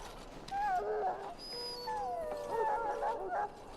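A mabari war dog in Dragon Age: Origins whimpers and howls, drawn-out plaintive whines rising and falling across several seconds, loud and close.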